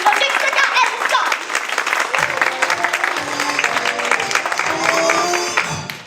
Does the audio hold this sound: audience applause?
yes